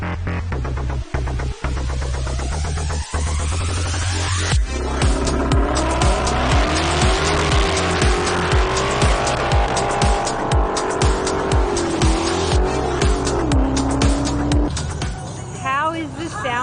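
Supercars launch down an airstrip runway in Queensland. Loud engines roar and climb steeply in pitch through the gears, with tires squealing and a brief high screech near the end.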